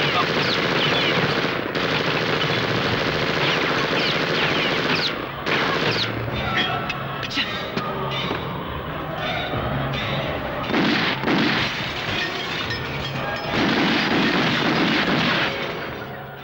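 Dense bursts of machine-gun and rifle fire in a Tamil action film shootout, loud and nearly continuous with rapid rattling volleys and booming shots, mixed with shouted voices throughout.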